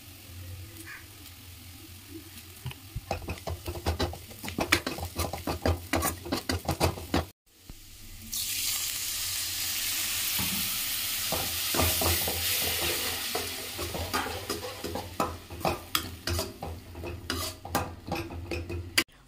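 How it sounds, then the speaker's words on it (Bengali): Onion masala with turmeric and chilli powder fries and is stirred in a pan: a continuous sizzle, with repeated scraping clinks of a spoon against the metal, briefly cut off before the frying rises louder and keeps on. "এখানে একটু হলুদ গুঁড়ো আর লঙ্কা গুঁড়ো দিয়ে, আর কিছু মশলা দেবো না, তো এগুলো দিয়ে ভালো করে জল দিয়ে কষিয়ে নেব"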